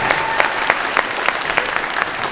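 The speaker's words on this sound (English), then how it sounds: "you guys all deserve a big round of applause" Applause at an FRC robotics regional opening ceremony, a crowd clapping steadily with a few louder, sharper claps standing out, close and without talk.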